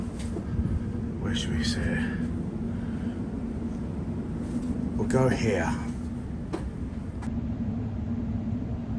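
The interior of a moving train bound for Manningtree hums with a steady low rumble. People talk briefly over it, and a few clicks and thumps break through the constant drone.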